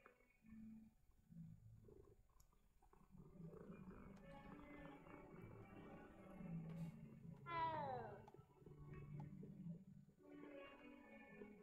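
Cats meow within a video game, a few short mews and one clear rising-falling meow near the middle, set among low rumbling game sounds and quiet background noise.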